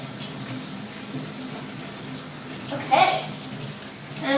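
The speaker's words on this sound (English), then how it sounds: "And we're washing with hot water because hot water kills bacteria faster" Hot tap water runs steadily as hands are washed with soap at a kitchen sink, a soft continuous splash with a brief louder burst near the end.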